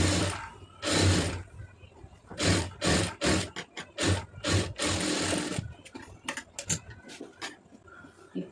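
A sewing machine runs a hem along a marked stitching line in close, loud bursts of rapid stitching. Toward the end the bursts grow shorter and more broken up, with lighter clicks and handling noise between them.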